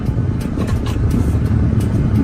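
A donation car from an auction, engine pulling in first gear after coming to a stop, with a loud steady rumble and cabin noise throughout.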